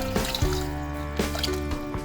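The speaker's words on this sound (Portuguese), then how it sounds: "adicione o restante do caldo de galinha" Leftover chicken broth poured into a pan of vegetables for chicken gnocchi, a soft, steady liquid splash with light dripping over a low background hum, fairly quiet and close.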